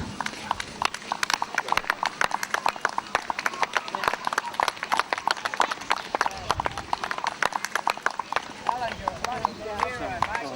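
A horse is trotted out by an experienced rider for a vet inspection, its hooves clip-clopping in a brisk, steady rhythm on a hard surface, with crowd noise and a few voices around it.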